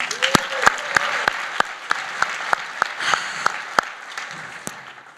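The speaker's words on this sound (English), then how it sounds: "Can I have one more round of applause for my brilliant friend, Katie Ryan?" Keynote conference audience applauding on stage at GreenBiz 25, a steady wash of clapping with a few sharp, evenly spaced louder claps standing out near the front, briefly mixed with faint voices.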